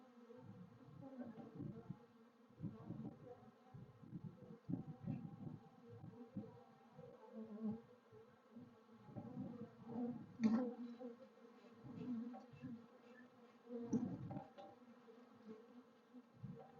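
Bees buzzing around an open hive on a farm, a steady layered drone with individual insects swelling louder as they pass close by the microphone; no talking.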